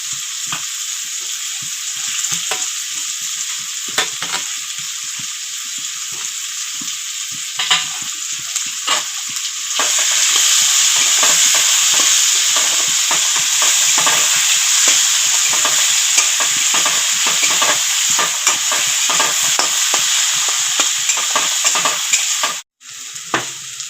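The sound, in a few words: chopped onion and garlic frying and being stirred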